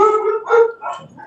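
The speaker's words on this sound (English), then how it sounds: "Somebody's got the Chihuahua barking." Small Chihuahua-type dog giving a few quick, sharp yappy barks in close succession, fairly loud and near, with no talking over it.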